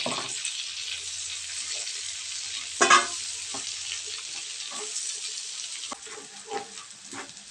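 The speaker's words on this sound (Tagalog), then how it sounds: "Ilagay lang natin yung bawang." Garlic frying in a pan for a clam dish, a steady bright sizzle throughout with a few louder spatters and stirring clicks near the middle and end.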